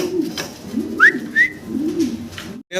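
Fancy pigeons for sale coo in low, pulsing calls close by, with a couple of brief higher whistling notes from nearby birds in between.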